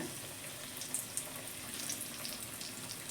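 Fish pakoras frying one at a time in oil over a low gas flame, giving a steady, faint hiss of bubbling oil with occasional tiny pops, continuous and unbroken, with no voices.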